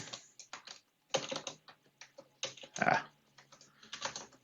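Bursts of typing on a computer keyboard, entering a name with a text tool in laser-engraving design software; quick irregular clusters of key clicks with short pauses, close and moderately quiet, no talking.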